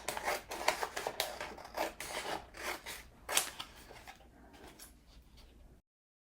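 Scissors cut out paper tags in a quick series of crisp snips and rustles, close and fairly quiet, thinning out toward the end before silence.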